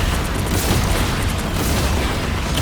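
Ultron's weapons fire in Marvel Rivals, a dense, continuous roar of overlapping booms and blasts that stays loud and unbroken throughout, with no voices.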